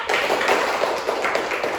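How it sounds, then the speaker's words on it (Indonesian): Classmates in an Indonesian university microteaching competition clap for group one, a short burst of dense, close hand-clapping that stays fairly even throughout, with no talk over it. "Tepuk tangan untuk kelompok 1."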